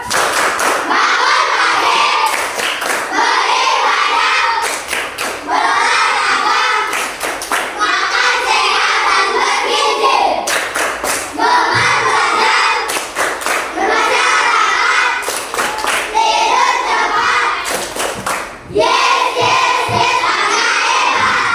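A group of Indonesian schoolchildren clap and chant in unison, with sharp rhythmic bursts of claps punctuating the shouted chant repeatedly, loud and close.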